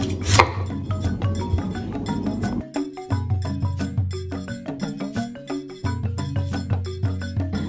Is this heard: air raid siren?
no